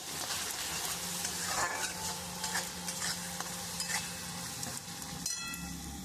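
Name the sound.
sautéing spice masala with chili powder and salt in a pan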